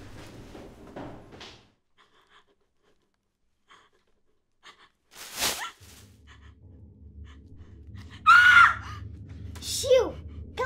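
A person screams sharply and loudly in a staged short-film scene, with scuffling and muffled voices around it in a quiet room.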